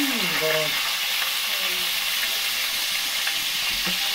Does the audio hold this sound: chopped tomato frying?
yes